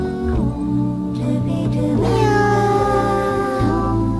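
A cat meows repeatedly in strong, drawn-out, tonal cries that bend in pitch. It is loud and close, over a steady background, and nobody speaks.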